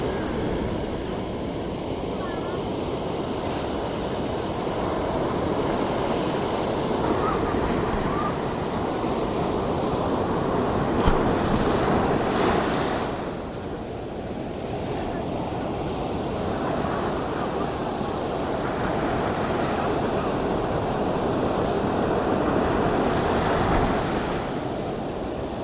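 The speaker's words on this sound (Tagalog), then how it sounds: "Ang laki po ng lalakas po ng alon" Big, strong ocean waves crash onto the shore in a continuous, loud roar with rolling surges and dips, mixed with gusty wind buffeting the microphone.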